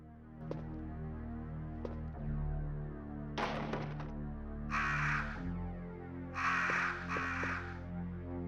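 Crows cawing in Resident Evil 1, several harsh raspy caws in irregular bursts, some doubled, over a steady droning game ambience with occasional clicks and a brief crackling burst.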